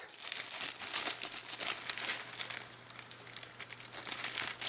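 A ZPacks 0.34 Cuben fiber tarp weighing 80 grams crinkles continuously as it is handled up close, a crisp papery rustle with irregular louder crackles and a faint low hum beneath.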